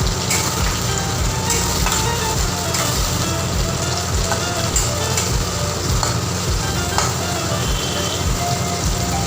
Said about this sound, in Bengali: আমি এটা অ্যাড করবো এবার পেঁয়াজ কুচি আর টমেটো কুচি, আর আমি এটাকে ক্যাপসিকামটাও অ্যাড করে দেবো।